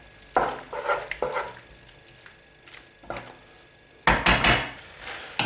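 Pasta tossed with chicken and chorizo in a hot pan, stirred in bursts of scraping and soft sizzling with pauses between, building to a louder, busier stir at the end; no one talks.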